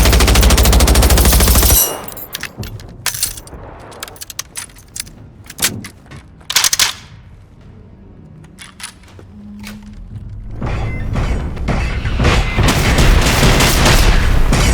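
Machine gun fire in Generation Zero, loud sustained bursts at the start and again toward the end, with scattered sharp shots and clatter in the quieter stretch between.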